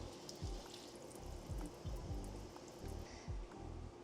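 Water is poured onto the soil of a potted indoor plant, a faint, steady trickle broken by soft low thuds and splashes. It is quiet and close, with no voices.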